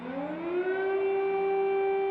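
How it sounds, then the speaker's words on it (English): An air raid siren wails across Kyiv, its steady tone rising and then holding a long, loud sustained pitch with no voices over it. "As air raid sirens rang out across Kyiv"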